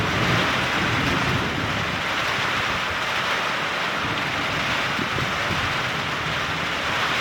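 Heavy rain pouring during a severe thunderstorm with microburst winds, a steady dense hiss filling the air without letup, no voices.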